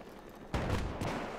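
An explosion in the video game Battlefield 3, a sudden loud boom at about the midpoint followed by a rumbling tail and a second, weaker blast.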